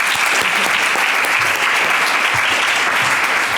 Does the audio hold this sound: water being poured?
no